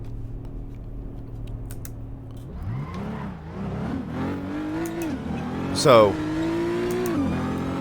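A race car in a racing simulator accelerates out of the pits, its engine note climbing and dipping through several gear changes, loud and steady under a man's brief speech.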